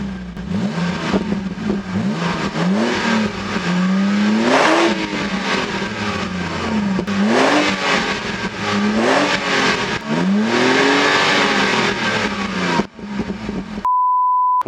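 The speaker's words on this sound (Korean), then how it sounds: "최대한 배기의 음을 한번 들려드릴게요" A BMW E93 328i convertible with an aftermarket tuned exhaust revs repeatedly, each blip rising and falling in pitch in a rhythmic series of loud, close bursts, ending with a short beep.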